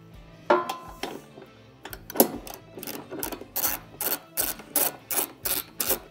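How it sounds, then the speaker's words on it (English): Socket ratchet tightening bolts on a Can-Am Commander expedition rack, first a few scattered clicks, then a steady run of evenly spaced ratcheting clicks building in loudness, close up with no talking. "grab your socket and ratchet again"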